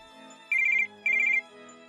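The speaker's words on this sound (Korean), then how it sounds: "전화." Two short bursts of a warbling electronic telephone ringtone, each about a third of a second long, ring clearly against a quiet background with a soft musical bed underneath.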